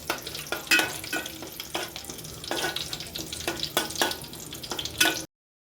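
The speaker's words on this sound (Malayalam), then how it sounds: "കുറച്ച് കറിവേപ്പിലയും എണ്ണയിൽ വാട്ടിയെടുക്കാം." Curry leaves frying in hot oil, a loud close crackling sizzle with bursts of spattering pops every second or so, lasting about five seconds before cutting off.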